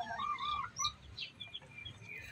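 A rooster on a farm gives a few short, faint clucking calls close by, with no voices.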